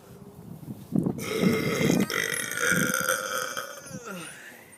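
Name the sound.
burping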